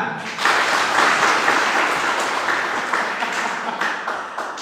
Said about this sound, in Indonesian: Coba saya bilang nih, tepuk tangan buat Tuhan.